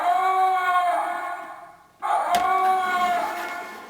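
A toy First Order short-range evacuation vehicle from Rise of the Resistance sounds its evacuation signal, a loud electronic wailing alarm in two rising-and-falling passes split by a brief drop and a click.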